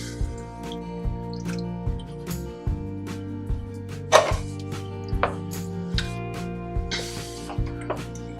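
Knife chopping garlic and onion on a cutting board while preparing Italian tomato sauce from scratch, with a steady series of close, crisp cutting knocks and no talking.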